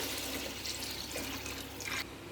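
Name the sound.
water being poured into pot for biryani rice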